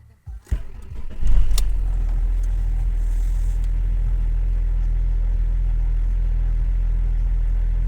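An Audi A6 C5 engine cranks briefly, catches and settles into a steady, close idle with a deep even rumble that continues alone to the end.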